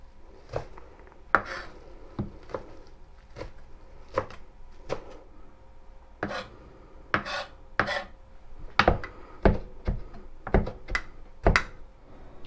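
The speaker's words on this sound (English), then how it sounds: "you're going to go ahead and finely chop your parsley" A knife finely chops parsley on a cutting board, sharp taps coming in uneven bursts, some quick doubles and runs, close and clear over a quiet kitchen background.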